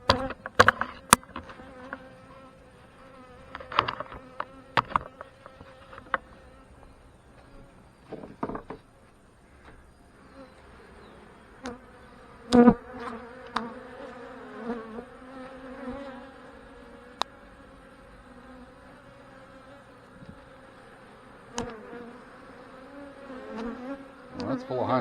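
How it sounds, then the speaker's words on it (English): Honey bees buzz steadily over open hive frames during a colony inspection, a close, continuous drone with scattered sharp knocks and clicks of frames being handled; no speech. "And it's covered in bees."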